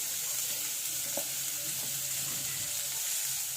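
Onions fry in oil in a pan for spaghetti, giving a steady close sizzle throughout with a few faint stirring scrapes.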